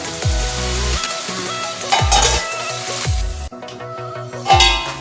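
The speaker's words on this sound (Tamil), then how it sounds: "நல்லா வெந்துட்டு இடைக்கிடக்கு இப்படியே கிண்டணும்" Banana flower stir-fry with garlic being stirred in a pan over the heat, steady sizzling under repeated scraping strokes of a spoon against the pan, a few louder clanks standing out.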